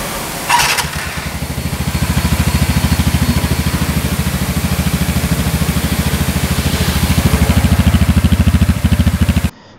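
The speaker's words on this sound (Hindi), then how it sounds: "और आप लोग भी एक बार सुन लीजिए इसका एग्जॉस्ट का साउंड" A 2019 TVS Ntorq 125 Race Edition scooter fires up after a short click and runs with a close, steady exhaust putter at idle, a slight rise in pace midway, before cutting off abruptly.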